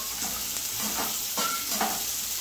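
Eggs frying in a pan for an egg pulusu curry, browning while being stirred: steady close sizzle with a few soft scraping stirs, no talking.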